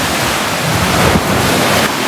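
Sea waves wash onto a beach at rising tide near a campsite, a loud steady roar of surf mixed with wind buffeting the microphone, with no talk.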